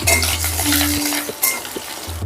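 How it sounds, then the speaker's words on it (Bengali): Potato pieces frying in oil with spices including asafoetida, dried chilli, bay leaf and fennel, a close sizzle broken by short scraping and clinking of a spoon against the pan, with no voices. "আলু হালকা ভাজা ভাজা হয়ে গেছে"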